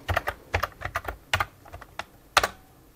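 Quick, uneven clicking of keys on a computer keyboard while commands go into a serial terminal for a Brother WP-1 word processor interface, close and crisp, heard alone without talk.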